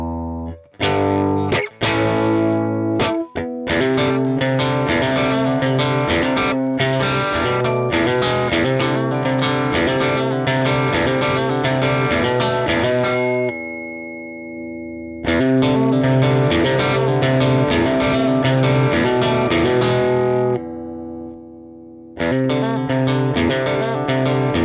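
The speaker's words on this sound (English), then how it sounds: "We're getting that breakup just by pushing the amp." Loud electric guitar through a Dusky Amps amp pushed into overdriven breakup by a boost pedal, playing sustained crunchy chords with gritty breakup, pausing briefly and ringing out before resuming.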